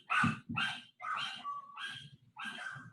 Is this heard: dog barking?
yes